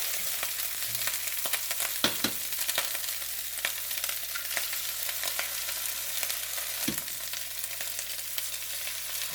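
Two eggs sizzle in a pan of garlic butter fried rice with a continuous hissing fry, punctuated by occasional spatula scrapes and taps, steady and close throughout with no voices.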